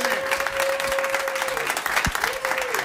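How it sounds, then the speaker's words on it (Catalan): An audience at a Catalan comedy show claps for a guest in a steady, moderately loud burst, with a sustained tone and a few low thumps mixed in. "Marc Serrats, un aplaudiment per ell"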